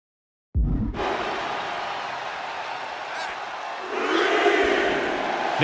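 Arena crowd at a women's wrestling match in WWE 2K24 roaring continuously after a sudden onset, swelling louder toward the end, with commentary over it.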